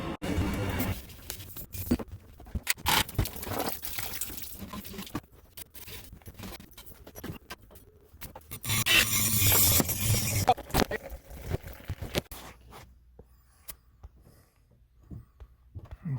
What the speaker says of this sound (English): Now we're about to start cutting.